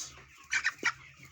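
Broiler chickens on a Kenyan farm give a few short, close clucks while being picked up and handled, a quick burst of three squawks over a low background hum.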